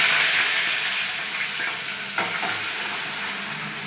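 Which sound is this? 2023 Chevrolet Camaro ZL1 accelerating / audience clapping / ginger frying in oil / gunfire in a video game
ginger frying in oil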